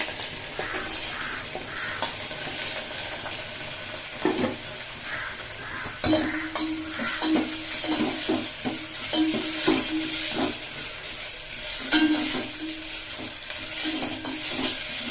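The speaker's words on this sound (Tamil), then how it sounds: "பூண்டு சேர்த்துக்கிறேன். வெங்காயம் சேர்த்துக்கிறேன்." Garlic and onion fry in a pan for a dal ball curry, a steady crackling sizzle broken by repeated scraping stirs and light clanks of a spoon against the pan, close by with no talking.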